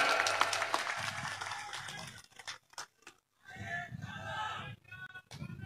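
Audience applause at a Marathi political gathering, a broad wash of clapping that fades and breaks off midway before returning more loosely, with voices and crowd noise mixed in.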